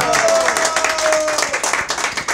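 Applause breaks out at a mariachi serenade in honour of a mother, dense clapping from a gathered group with a sustained tone and voices mixed in, carrying steadily through the whole moment.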